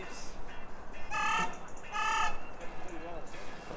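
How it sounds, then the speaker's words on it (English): A loud bird outdoors in Bristol, England gives several harsh squawking calls in quick succession, close and prominent over a noisy street-like background. "It's a loud bird."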